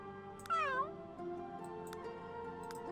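A cat meows in The Sims 3, one clear rising-and-falling meow up close, followed by quiet ticks and a soft background tone.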